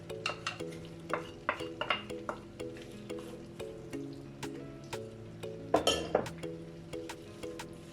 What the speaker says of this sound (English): So we're ready to add our onion, green pepper, chili, curry leaf, thyme and mint.